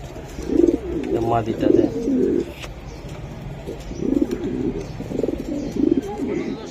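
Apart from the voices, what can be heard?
pigeon cooing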